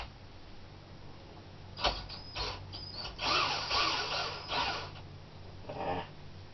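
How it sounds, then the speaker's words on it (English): A cordless drill powering a homemade 1x42 pipe sander whirs in short bursts, spinning up and stopping several times at close range, with a gritty sanding rasp in the louder stretches. "you could actually power it with the cordless drill just by chucking the drill up on the shaft"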